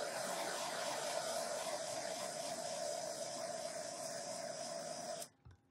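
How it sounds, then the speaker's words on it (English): Blowtorch heating thick epoxy, a steady, roaring hiss that holds evenly for about five seconds before cutting off abruptly. "I'm just gonna grab my blowtorch and just heat it up for a second."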